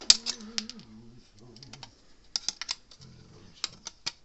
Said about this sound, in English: cut those 2 wires off and set it right there.